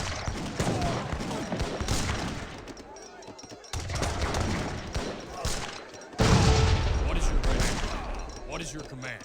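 A British musket volley crackles loudly in an Age of Empires 3 battle: dense, overlapping gunshots roll through the whole stretch, with a sharp new surge of fire near the end.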